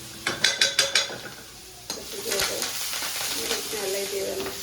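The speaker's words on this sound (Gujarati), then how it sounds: "જો ગાઈસ લસણ ડુંગળી નાખી દીધી." Garlic, onion, curry leaves and chillies sizzle in hot oil for dal fry, starting with a few quick knocks and then settling into a steady, moderate hiss.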